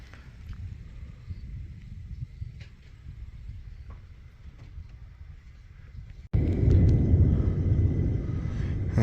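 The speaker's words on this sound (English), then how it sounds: "Okay, that thunder's really getting close." Close thunder rumbles through a storm at Mesa Verde, Colorado, as a low continuous roll that swells abruptly into a louder, heavier rumble partway through, with wind buffeting the microphone.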